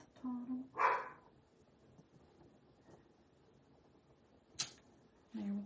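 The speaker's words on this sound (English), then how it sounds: "My dog's barking." A pet dog barks at someone passing outside a home, a few short sharp yips spaced apart, moderately near and fairly loud against a quiet room.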